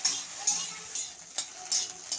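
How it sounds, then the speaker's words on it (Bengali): An egg fries in white oil in a pan while being stirred continuously, with soft sizzling and a few sharp scraping clicks of the spatula against the pan. "ডিমটা আমি ভেজে নিচ্ছি, আর আমি এইভাবে অনবরত নাড়তে থাকবো"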